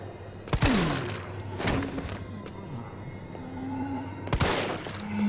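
Gunshots in Resident Evil 3 Remake, two sharp, loud single shots spaced a few seconds apart, standing out over a low steady game ambience.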